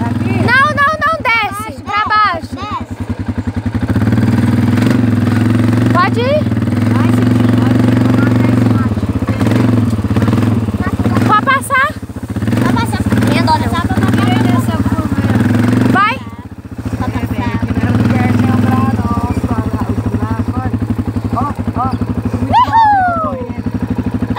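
A homemade quadricycle's small engine runs and revs unevenly while being driven, chugging up and down at close range, with people talking and calling out over it throughout.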